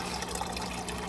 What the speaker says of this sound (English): They're pumping out bubbles.